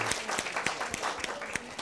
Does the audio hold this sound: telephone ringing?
no